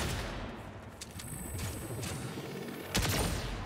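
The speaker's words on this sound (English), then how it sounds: "Oh, shit! It's a sniper. It's a weird sniper." Sniper rifle fire in the game Saints Row, set against constant loud battle noise, with one sharp crack near the end standing out.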